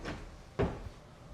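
Closet drawer in a luxury home being pulled open: a soft slide, then a sharper wooden knock as it stops, close and fairly quiet.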